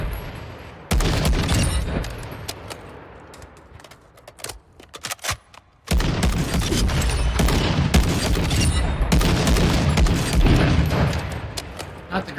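Rapid bursts of gunfire from a bullpup sniper rifle in a first-person shooter game, sharp cracks packed densely across most of the stretch, with a brief thinning gap before firing resumes loudly.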